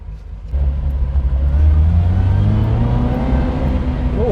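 A car engine nicknamed Project Fox pulls harder under more throttle on a test drive, a loud steady rumble from inside the cabin with a rising drone as it accelerates.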